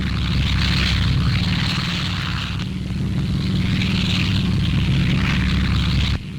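Droning engines of WWII bombers flying overhead in a D-Day era wartime film, a thick continuous rumble with a pulsing higher hum, loud and steady until a sudden drop near the end.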